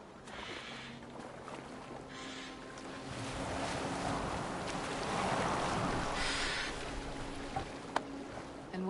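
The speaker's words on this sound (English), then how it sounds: "Are you well enough to steer this boat?" A boat moving across open water, with a steady broadband wash of water and wind that swells gently toward the middle and stays continuous throughout, no voices present.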